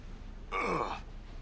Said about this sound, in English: So we're going to hear him grunting for a while.